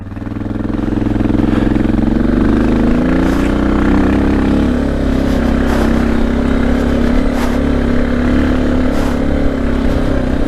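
Motorcycle engine climbing the mountain road up Engineer Pass, a loud, steady, close droning hum held at an even throttle for the whole stretch, with no talking.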